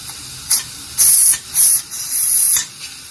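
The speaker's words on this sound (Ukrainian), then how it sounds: "Так, ось і зашипів наш казанчик. Бачите, пар пішов." Steam hisses from an Afghan pressure kazan cooking plov, loud and close in several bursts, some short and others longer, rising over a steady background hiss.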